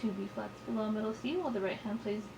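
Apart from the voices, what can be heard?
No everyday noises stand out.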